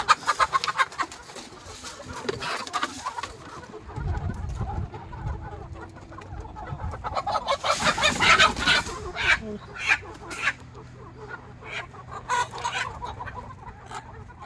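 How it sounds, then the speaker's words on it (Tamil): Several country chickens cluck and squawk close by in short bursts at a dhaba in Salem, with faint voices murmuring underneath. "இப்போ ஃபஸ்ட்டு போய் கோழி பிடிப்போம்"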